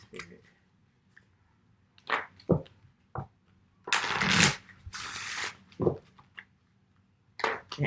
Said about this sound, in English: I still like to do some shuffling on camera